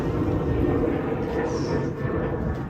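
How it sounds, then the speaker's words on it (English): An airplane drones overhead as it passes near a garage where a 2001 Honda S2000 AP1 is being worked on, a broad low rumble that stays loud and steady across the whole stretch with no voices. "Hold up, there's a plane passing by."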